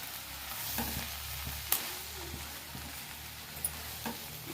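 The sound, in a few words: stirring coriander leaves into palya in pan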